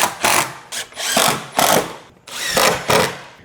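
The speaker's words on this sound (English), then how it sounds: "use your 1¼ inch screws to screw this entire thing down from both sides." Power drill driving 1¼ inch screws into a wooden drawer box bottom for an Ineos Grenadier drawer system, several separate whirring bursts of varying length with short pauses between, close and loud.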